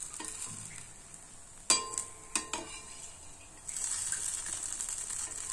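A tiny dosa fries softly in a small pan, with a few sharp clinks and scrapes as it is flipped upside down to crisp, then a steady brighter sizzle builds and continues to the end.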